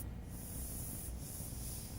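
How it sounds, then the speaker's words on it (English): Airbrush spraying paint onto an animal artwork, a steady close airy hiss that runs unbroken, with a brief interruption in the upper hiss near the start. "I'm going to start by spraying this"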